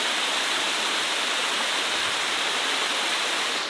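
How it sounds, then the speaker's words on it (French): A waterfall roars in a steady, dense, hiss-like rush, loud and unbroken throughout with no voices. "Voilà la cascade."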